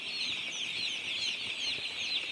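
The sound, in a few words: chickens being chased at night on a poultry farm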